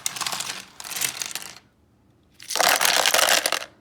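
Loose plastic keycaps pulled from a gaming keyboard clatter loudly as they are poured into a large container, in two close bursts, a short pause, then a longer, denser cascade.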